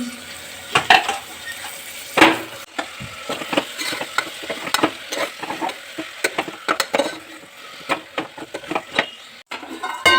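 Chopped tomatoes with turmeric are stirred in a pan for tomato pulao: a spoon scrapes and knocks against the metal in irregular strokes over a soft sizzle, close and clear, with no talking.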